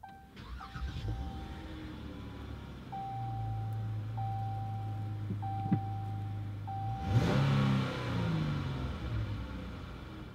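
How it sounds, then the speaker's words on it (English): A 2016 Dodge Charger SE starts by push button: repeated soft warning chimes, then the engine cranks and catches with a loud burst before settling into a rumbling idle. "To start the vehicle, all you have to do is put your foot on the brake and push this button."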